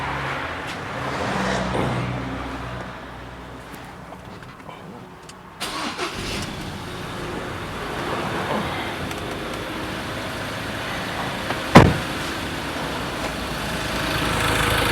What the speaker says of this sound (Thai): จะสตาร์ทให้ฟังเสียงนะครับ